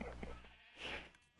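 Sheep bleating in Minecraft on PS4, a single short wavering bleat close up, lasting about a second over low background hum.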